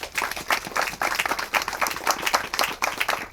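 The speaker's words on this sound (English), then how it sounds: "So give them a round of applause." A crowd at an outdoor walk against domestic violence in Southfield breaks into steady, loud applause, dense clapping filling the air without pause.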